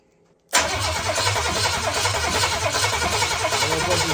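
An Oldsmobile 400 big block cranks with its ignition disconnected and fuel fed from a gas can, turning over in a steady, loud, continuous churn that starts abruptly after a brief quiet moment and holds without firing.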